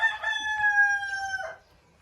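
A rooster crows once in a chicken enclosure, a loud drawn-out call lasting over a second that ends abruptly, with faint background clucking.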